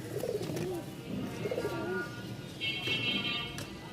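Rajshahi Giribaz pigeons, a racer pair with the hen shown, coo in low, rolling, repeated calls at close range, with a brief higher tonal sound near the end and no clear speech.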